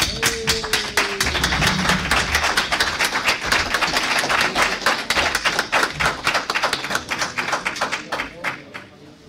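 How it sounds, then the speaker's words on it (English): Applause at a post-fight boxing press conference for boxer Christina Hammer: loud, close clapping from a room of people, a rapid dense patter of hand claps that stays strong throughout, with a brief voice near the start. "So I want everybody to give a round of applause for Christina Hammer."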